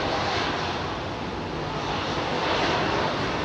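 An airliner taking off from Heathrow runway 27R, a dense, loud, unbroken jet engine roar filling the air up close, with no voices.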